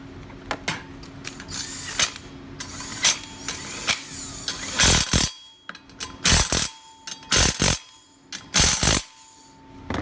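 An electric impact tool fires in several short, loud, rattling bursts while tightening bolts on a vehicle fan clutch, with quiet mechanical clicks and pauses between them.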